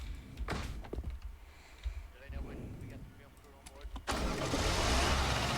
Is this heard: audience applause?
no